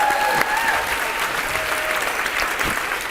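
Audience applause at a talk on accelerated learning methods, a full room clapping loudly and evenly for the whole stretch with faint voices beneath.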